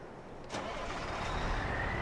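A truck engine starts up in Farming Simulator 22, a quiet cranking catch followed by a steady low idle hum that holds on without any talking.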